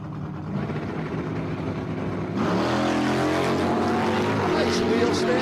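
A drag racing car at Empire Dragway launches down the strip with a wheel stand. A low idle gives way to a sudden, loud, sustained roar partway through, with an announcer talking over it.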